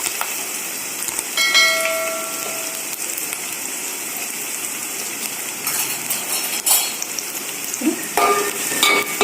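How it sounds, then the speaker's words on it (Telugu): Onions frying in hot oil for egg bhurji, a steady dense sizzle throughout with a few clinks and stirring scrapes, close and alone. "చూడండి, ఆయిల్ వేడైంది కదా. ఇప్పుడు మనం ఆనియన్స్ని వేసుకుందాం."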